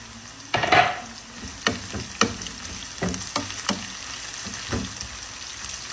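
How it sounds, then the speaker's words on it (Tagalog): Sliced onions drop into hot oil in a pan, a brief burst of sizzling followed by scattered crackles and a few spoon scrapes, close up and fairly quiet, with no voices. "Lagay na natin si sibuyas."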